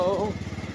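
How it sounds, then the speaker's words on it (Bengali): A motorcycle engine idles up close in a steady, chugging pulse, briefly overlapped by a voice at the start. "তো এই বাইকে বসে পড়েছি"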